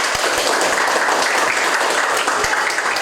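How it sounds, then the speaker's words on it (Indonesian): Classroom applause from students during a social studies lesson, a dense steady patter of many hands clapping throughout, fairly loud and close. "Baik, tepuk tangan guys ya."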